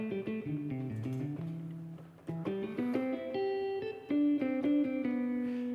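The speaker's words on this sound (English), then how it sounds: "This is the sound of normal guitar." Electric guitar notes and short melodic phrases play through an amplifier at moderate volume, clear and sustained, with no one speaking.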